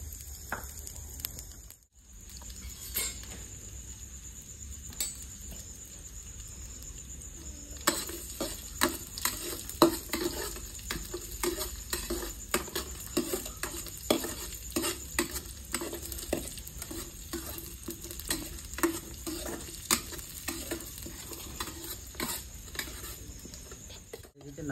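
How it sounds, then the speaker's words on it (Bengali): Cashews and raisins fry in hot ghee with a steady crackling sizzle, while a spoon stirs and scrapes against the pan in repeated sharp clicks and taps. "কাজু কিশমিশটাকে ভালো করে ভেজে নেবো।"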